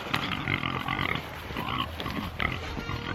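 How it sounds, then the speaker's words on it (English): Pigs on a farm grunt and snuffle close by in a quick, irregular series of short grunts over about three seconds. "Good morning, pigs."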